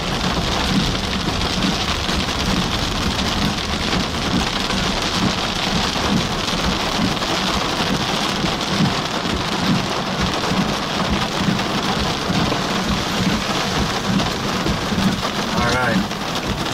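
Heavy rain pounds steadily and loudly on a parked storm-chase vehicle beneath a supercell near Hebron, Nebraska, with low thunder rumbling continuously underneath.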